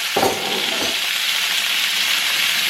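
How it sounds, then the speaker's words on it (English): Onions, peppers and tomatoes dropped into a hot pan, a brief thump of food landing followed by a loud, steady sizzle. "Now I'm going to throw in all my seasonings, all my onions, my peppers, and my tomatoes."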